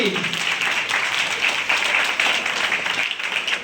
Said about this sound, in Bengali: সবচেয়ে ছোট প্রতিযোগী, জোরে হাততালি।